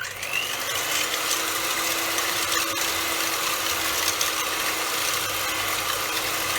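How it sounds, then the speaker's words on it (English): A hand mixer with a whisk attachment runs at high speed whipping cream and caster sugar for a coconut cream pie, a steady close whirring hum with no pauses or talk. "using a hand mixer or a cake mixer if you prefer, we're going to blend this on a high speed"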